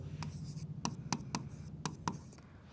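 Writing with a pen while solving a similar-triangles maths problem: short scratchy strokes in quick irregular taps, close and faint over a low steady hum, with no talk.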